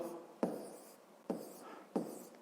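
Pen or chalk strokes writing out a fifth-grade percentage problem, three quick scratchy bursts about a second apart, each starting sharply and trailing off, close and fairly quiet with no talking.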